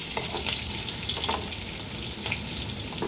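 Mutton stew ingredients with carrot and papaya fry and get stirred in a pan, giving a steady close sizzle with soft scraping stir sounds throughout and no voices.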